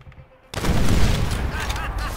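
Sudden loud burst of rapid gunfire in Call of Duty: World at War, aimed at a fuel tank, breaking out of near silence and continuing as a sustained volley with a rumbling wash behind it.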